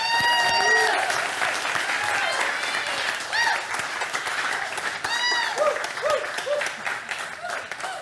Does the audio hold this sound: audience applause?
yes